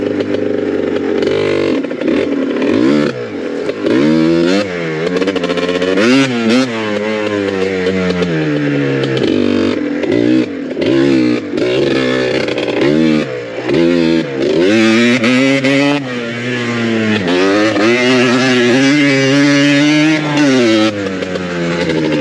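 A Yamaha Blaster ATV engine revs hard in first gear during a wheelie attempt. The loud, close buzzing note climbs and falls repeatedly in quick throttle bursts, with no talk over it.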